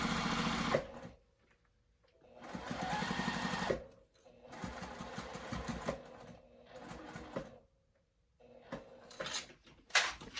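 A sewing machine set to stitch length 2.5 runs a quarter-inch seam in several bursts, pausing briefly between runs, close and steady with a soft mechanical whir.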